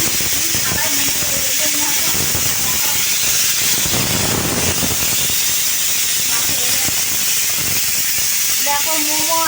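Steam hisses steadily from momos cooking beside boiling eggs in a home kitchen, a constant broadband rush throughout with occasional faint clinks and soft background sounds layered underneath.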